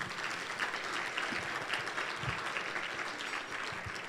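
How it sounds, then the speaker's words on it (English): Banquet audience applauding in a large room, a steady, even patter of many hands clapping throughout, heard at a moderate distance with no talk over it. "round of applause for that"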